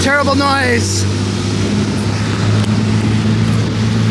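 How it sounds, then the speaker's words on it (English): Busy street traffic in Manila, a steady loud rumble of engines and passing vehicles filling the whole stretch, with a voice talking briefly at the start over the drone. "This is the traffic all day, every day."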